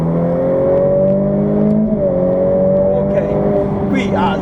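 A Ferrari F8 Tributo revs on the Imola circuit, heard from outside the car, its engine note holding steady, dipping slightly, then climbing again, loud and close throughout.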